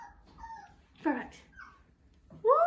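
A dog whimpers and yips in short, high, whiny cries, close by, with quiet gaps between them and a louder whine at the end.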